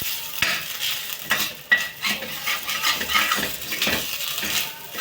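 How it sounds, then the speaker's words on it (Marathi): Rice roasting in ghee in a pan for kheer, stirred with a spoon that scrapes and clinks against the metal in quick irregular strokes over a soft sizzle, close and clear with no talking. "अशा प्रकारे अजून भाजू थोडीशी, कारण उकळी आल्यावर जास्त वेळ नाही ठेवायची आपल्याला"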